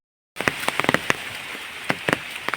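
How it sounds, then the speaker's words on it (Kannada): Rain begins falling in a forest where an animal grazes: a steady wash of patter sets in abruptly after a moment of silence, with close, sharp drops striking nearby surfaces at irregular intervals. "ಮಳೆ ಸಹ ಬರಲಿಕ್ಕೆ ಶುರುವಾಯಿತು"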